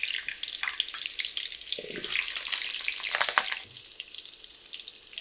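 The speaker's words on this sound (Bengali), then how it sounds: "আলুটা ভেজে নেব।" Cut potatoes frying in hot oil in a pan for a chicken curry, a steady close sizzle and crackle running throughout with brief stirring scrapes and no talk.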